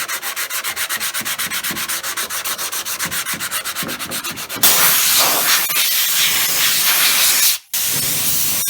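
Bondo body filler on a rusted panel is sanded by hand with 80-grit sandpaper, first in quick rhythmic back-and-forth strokes, then a louder continuous rasping scrub with a brief break near the end, close and with no talking.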